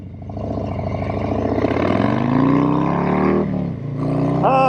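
A Harley-Davidson Low Rider S motorcycle, built up to 108 hp, accelerates hard nearby, its engine note climbing steadily through a gear, dipping briefly at a shift, then rising again.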